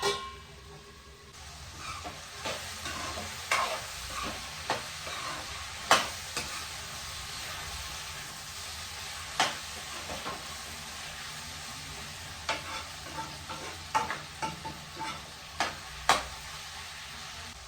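Vegetables for sambar cook in oil in a pan, a soft continuous sizzle broken by sharp spoon scrapes and clicks of stirring every second or two, close and fairly quiet, with no talking.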